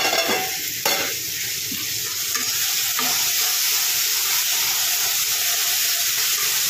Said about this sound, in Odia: ଏଠି ମୋ ସାଇଡ଼୍ରେ କଲରା ଆଳୁ ଭାଜିବା ପାଇଁ ବସେଇ ଦେଇଛି